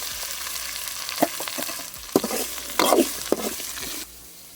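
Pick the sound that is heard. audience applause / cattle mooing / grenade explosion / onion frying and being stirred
onion frying and being stirred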